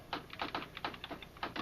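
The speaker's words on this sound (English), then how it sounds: "I'll type it on the typewriter." Keys struck on a typewriter while a word is typed for a talking computer, a brisk run of about a dozen crisp, close mechanical clacks in an irregular rhythm, with no talking.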